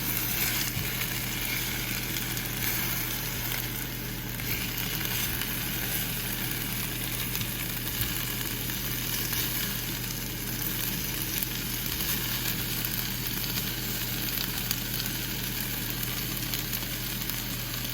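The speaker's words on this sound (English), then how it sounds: "I'm gonna go ahead and pop these in the skillet just so it can get a little flavor" Food sizzling steadily in a skillet over turned-down heat, a continuous even frying hiss lasting throughout with no voices.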